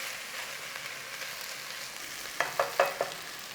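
Chili sizzles steadily in a hot pan while being stirred for a home-style palak chicken curry, with a few sharp utensil knocks against the pan near the end.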